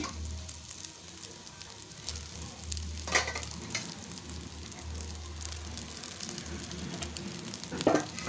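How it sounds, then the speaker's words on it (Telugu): Leftover rice frying in a pan of tempering for thalimpannam, a steady soft sizzle running throughout with a couple of brief stirring scrapes, close and fairly quiet. "మనం ముందుగా పొడి పొడిగా చేసి పెట్టుకున్న రైస్ని అయితే యాడ్ చేసుకోవాలి"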